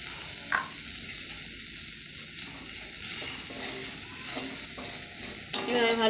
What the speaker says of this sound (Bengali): এভাবে ভালো করে ভেজে নেব।